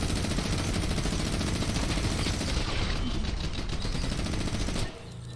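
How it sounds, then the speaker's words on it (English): A mythic minigun fires in a video game as a dense, continuous rattle of rapid shots for several seconds, then stops abruptly near the end. "use a mythic minigun, and win the game."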